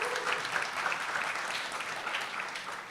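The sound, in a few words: round of applause at a ceremony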